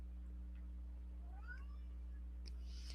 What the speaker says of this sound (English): My cat just agreed with me.